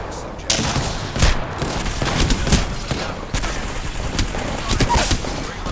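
Gunfire in an elite zipline jumping match of a battle-royale style video game, with dense bursts of shots and rapid fusillades under continuous game noise and a speaking voice.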